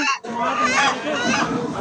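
Chickens squawk and cackle loudly and continuously, close by, amid a busy poultry market din with voices mixed in, in Saudi Arabia.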